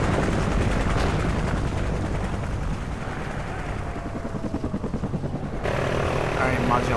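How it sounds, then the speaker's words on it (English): A friendly helicopter in the video game Call of Duty Ghosts, a steady loud rotor roar with faint gunfire mixed in, continuous throughout under the game's dense battle noise. "Friendly chopper inbound."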